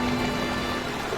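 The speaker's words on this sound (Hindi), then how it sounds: "बारिश बहुत ज्यादा तेज थी।" Heavy rain pours in an animated jungle story, a dense, steady hiss of falling water with no voices over it.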